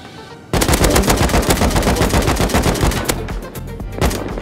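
Automatic gunfire in the survival game Rust bursts in abruptly after a short quiet moment, loud rapid sprays of shots in dense bursts with brief gaps, then a few trailing single cracks, with no talk.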